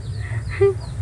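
A single short honking bird call, like a goose or duck, rises briefly over a steady low hum, from pigeons and quails in front of a house.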